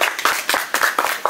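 Audience clapping after a KPJ Rangkasbitung song performance at an arts show, a loud burst of fairly rhythmic, close hand claps in uneven clusters with no talk.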